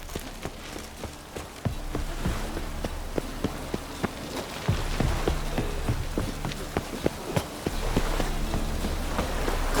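Rain patters steadily across surfaces in The Witcher 3: Wild Hunt, a dense, continuous wash of drops punctuated by sharp ticks and splashes, growing heavier partway through with no voices over it.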